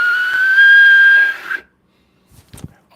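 A kettle's shrill steady whistle sounds loud and close for about a second and a half, then cuts off, followed by a faint clunk.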